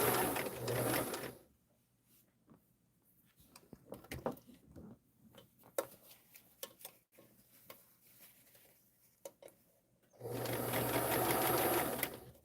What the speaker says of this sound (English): I'm just going to stitch it right along the edge.